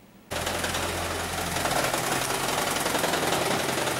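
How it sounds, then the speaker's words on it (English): A Toyota Prius engine with a cylinder 1 misfire starts up abruptly and runs with a loud, steady, rapid rattling knock that continues unbroken to the end. "when these things misfire, they make a noise like that"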